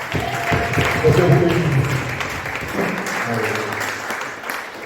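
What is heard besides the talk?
congregation applauding the Lord in church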